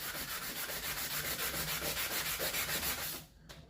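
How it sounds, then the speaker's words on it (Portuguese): Sandpaper rubs rhythmically over a resin and fiberglass box in close, loud, even back-and-forth strokes, then stops abruptly near the end. "Quando você estiver lixando"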